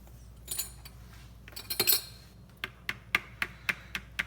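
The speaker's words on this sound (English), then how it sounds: "Then you want to get a tiny little straw to just mix it up a bit." A tiny straw stirs a mixture inside a glass container during a science experiment, giving close, sharp clinks and ticks, first scattered and then falling into an even run of light taps, with no voices.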